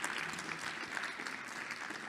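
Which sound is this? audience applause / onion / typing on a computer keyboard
audience applause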